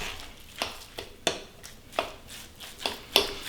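A turkey burger mixture with shredded cilantro is stirred in a bowl, producing sharp, close knocks and scrapes that come in a loose rhythm roughly every half second, with no speech.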